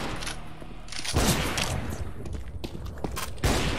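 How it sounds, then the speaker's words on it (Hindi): Gunfire in the video game CS:GO: rapid bursts of shots and sharp cracks with a few louder blasts over a dense game background, along with faint footstep-like noise. "गोली चला रहे दु दु दु दु दु दु दु"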